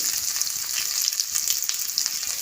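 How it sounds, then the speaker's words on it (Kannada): Cumin, garlic and dry red chillies fry in hot oil, giving a steady, loud, bright sizzle that crackles evenly throughout at close range, with no voices. "ಎರಡು ಒಣಮೆಣಸಿನಕಾಯಿ ಹಾಕಿ ಚೆನ್ನಾಗಿ ಕಡಿಮೆ ಹುರಿಯಲ್ಲಿ ಅರ್ಧ ನಿಮಿಷ ಫ್ರೈ ಮಾಡ್ಕೊಳ್ಳೋಣ"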